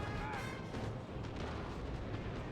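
Artillery shelling in the Napoleon: Total War battle game, a continuous low rumble of booming cannon fire and distant impacts rolling together, fairly faint and unbroken across the short stretch.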